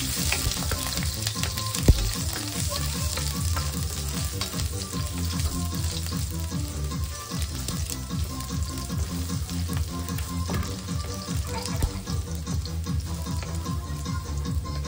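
Garlic frying in a pan, a steady, loud, continuous sizzle with crackling and occasional stirring scrapes, close by and without speech.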